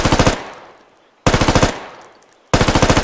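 Full-auto machine gun fire in the military shooter game Squad: three loud, close bursts of about half a dozen rapid shots each, separated by short gaps where the reverb dies away.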